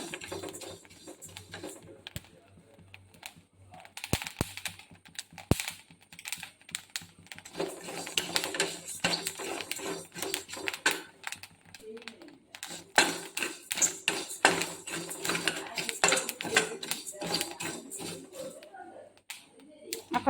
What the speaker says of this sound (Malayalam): അപ്പം നമ്മുടെ രണ്ടാമത്തെ അരിയും പൊട്ടാൻ തുടങ്ങിയിട്ടുണ്ട്.